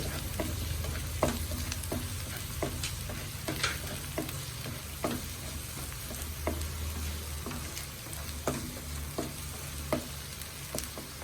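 Chopped green chilies sizzle and fry in a pan for garlic dal curry, a steady close crackle with repeated scraping clicks from stirring throughout.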